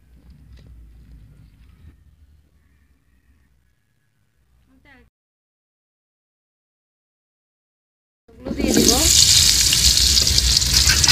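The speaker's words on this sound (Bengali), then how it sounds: "বিরিয়ানির আলুগুলো একটু লাল লাল করে ভেজে নিব আগে।" Potatoes seasoned with turmeric and salt go into hot oil for chicken biryani. After quiet handling sounds and a silent gap, the oil bursts into a loud, continuous sizzle.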